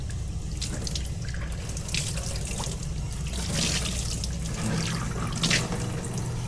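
Running water from a tap pours steadily while a cast iron skillet is scrubbed underneath, a continuous splashing hiss with brief louder bursts of water and scraping.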